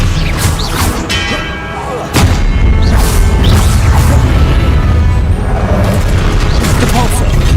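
Dense Hogwarts Legacy combat as the Expelliarmus disarming spell is cast: a sharp crack followed by loud, continuous booming and rumbling magic effects, with a voice mixed into the fray.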